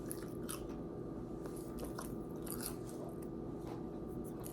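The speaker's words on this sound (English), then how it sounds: "It's like they crunch at first, but then when they get wet, it really is like eating fish skin, but it's not fish, it's seaweed." Seaweed snacks bitten and crunched up close, a steady run of crisp chewing crunches and wet squishy bites filling the whole stretch with no talk.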